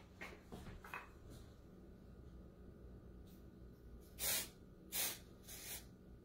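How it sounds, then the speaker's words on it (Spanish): Aerosol spray can hissing onto a red wine and chocolate cake, in several short bursts, two loud close blasts near the end after fainter puffs, with no talking. "vamos a agarrar igual el mismo spray"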